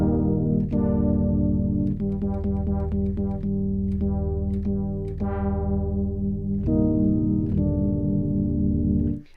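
A Hydrasynth 2.0 synthesizer patch plays sustained chords with a smooth, distorted, chorused tone, each voice carrying a slightly different filter envelope, so swells and attacks shift as notes change every second or so.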